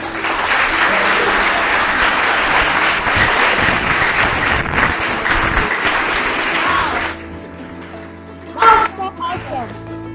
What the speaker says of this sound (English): Please, a round of applause for them once more.